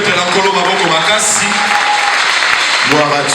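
A church congregation applauding during a Sunday worship service, loud sustained clapping filling the room with voices calling out over it.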